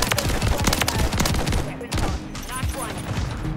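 The JAK Maglift shotgun in Call of Duty: Modern Warfare III fires in a rapid, dense barrage of loud blasts, nearly continuous with brief gaps, close up over other game sounds.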